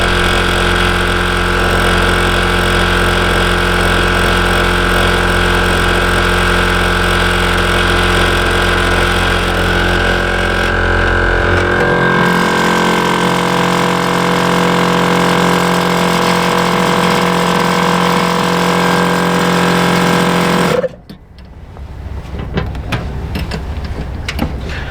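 A compressor-style air pump inflates the air suspension of a tandem-axle trailer, running as a loud, steady mechanical drone. Its pitch drops partway through, and it cuts off near the end, leaving quieter background noise.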